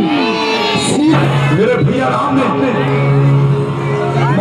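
Large festival crowd at a Ramleela Ravan Dahan celebration, a loud continuous roar of cheering, whooping and shouting, with someone talking excitedly over the dense babble.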